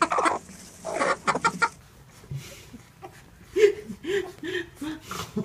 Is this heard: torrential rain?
no